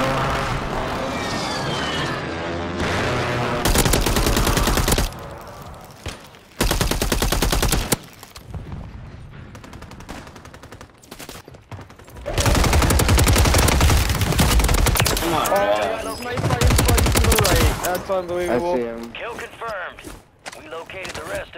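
HOLGER 556 rifle fire in a Warzone 3 match on Rebirth Island, loud sustained automatic bursts alternating with short gaps and quieter stretches where a player talks between volleys.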